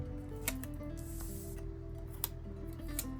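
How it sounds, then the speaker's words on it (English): Scissors cut through a decorative planner sticker in quiet, crisp snips, several sharp clicks spaced unevenly over a soft background hum. "So let's cut it like here."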